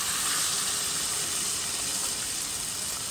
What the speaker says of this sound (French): Je mets de l'eau.